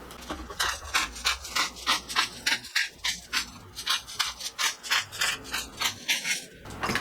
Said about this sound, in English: I'm going to just use this Bowl and Basket whole peppercorn grinder.